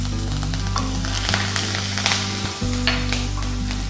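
Green chillies fry in a pan with cumin and coriander seeds for a Punjabi samosa filling. A loud, close, steady sizzle runs under light stirring and a low hum, with no talk.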